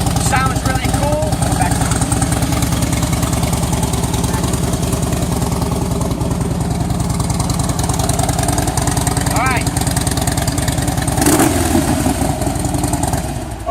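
A 2006 Harley Davidson Heritage Softail trike idles with a loud, steady, lumpy V-twin rumble close by, holding a continuous throb for the whole stretch with a slight rev near the end.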